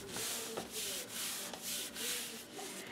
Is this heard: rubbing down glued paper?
yes